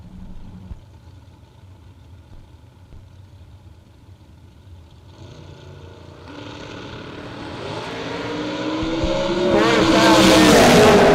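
Race car engines at a TB Promotions Twin 50's drag racing event, a low rumble that builds steadily into a loud, close roar over the final seconds, with faint commentary underneath.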